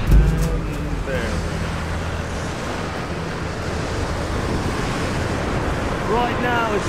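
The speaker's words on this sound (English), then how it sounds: "Right now it's really windy, Pete." Wind gusts whoosh steadily through Tomb Raider: Definitive Edition, a broad roaring rush that fills the whole stretch, with someone talking over it at the start and end.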